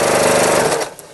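A sewing machine runs steadily, stitching a seam on a drawstring bag, loud and close, then slows and stops near the end.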